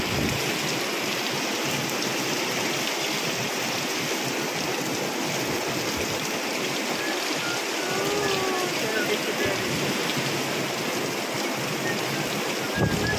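Heavy typhoon rain from Super Typhoon Uwan pours steadily over a flooding backyard, a dense, unbroken hiss of water that stays loud throughout.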